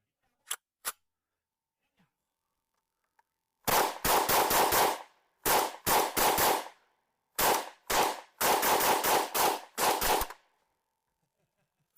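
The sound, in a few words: FN P90 rifle firing live rounds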